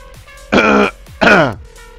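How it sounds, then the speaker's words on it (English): Two loud, gravelly throat clearings in quick succession, close and harsh, with quiet background noise between them. "I hate that I have to clear my throat all the goddamn time."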